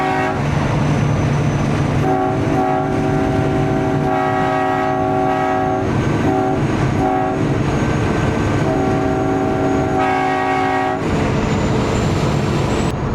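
A loud air train horn fitted to a Peterbilt 389 truck blasts in several long chordal bursts of varying length, close and overpowering against a constant rumble.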